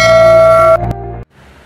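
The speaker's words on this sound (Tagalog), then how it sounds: "i-hit ang notification bell" Notification bell sound effect: a bright, loud ringing chime with rich sustained overtones that cuts off abruptly, followed by a short lower tail and quiet residual tone, with no speech.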